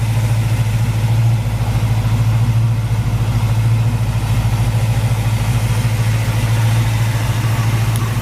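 A 1968 Ford Mustang's factory V8 engine runs at a steady idle, giving a loud, constant low rumble close by with no talk over it.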